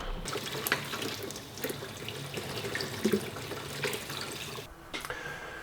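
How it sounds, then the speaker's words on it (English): Dishes are washed at a sink under a running tap, a steady rush of water with scattered clinks and splashes throughout, close up, with no talking. "I'm going to do this pile of washing up here"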